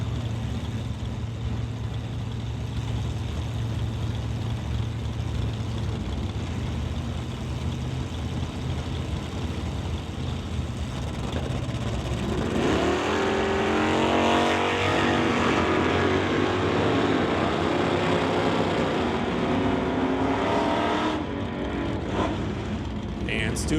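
Drag race launch of a Camaro from Deadman Racing against the Stu's Plumbing Chevelle: a loud sustained engine roar that swells midway into a harsh, rising full-throttle howl, close and continuous, with a commentator's voice over it.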